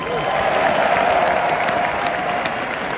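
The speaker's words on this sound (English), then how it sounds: "Please give them a round of applause." Arena crowd at a Nets jersey retirement night gives sustained, dense applause that holds steady throughout, with a faint voice under the clapping.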